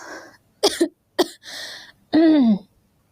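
Several short, harsh coughs and throat-clearing bursts from a person who is feeling unwell, spaced irregularly over a few seconds, ending in a longer voiced, throaty sound.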